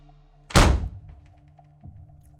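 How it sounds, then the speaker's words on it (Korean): A single loud, sharp bang of a bathroom door thrown open, close by, decaying quickly into near silence with a faint knock after. "쾅 하고 기세 좋게 화장실 문을 열고 나온"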